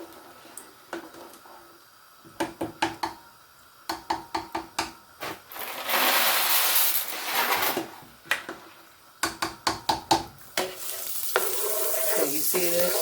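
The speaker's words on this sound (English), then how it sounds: "about maybe 5 tablespoons olive oil. Get a spoon so I can mix up my noodles." A spoon stirs pasta noodles coated in olive oil in a pan for garlic parmesan shrimp pasta, making bursts of quick close scraping clacks broken by stretches of wet sizzling swish, with no talking.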